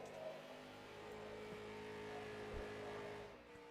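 Engine of a number 98 Ford Mustang street stock race car rolling onto the track at Martinsville, a steady mid-pitched running drone at moderate distance with slight rises in revs.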